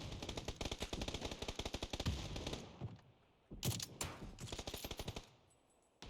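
Gunfire in the video game PUBG: rapid automatic bursts of rattling shots in quick rhythm, then a pause and a few more short bursts with sharp single cracks, loud and close, no talking.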